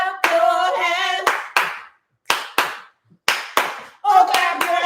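Several people clap their hands at a Southern-style home dinner of Korean bibimbap. Loud, close bursts of clapping come in short groups separated by brief silences, with voices singing or talking between them.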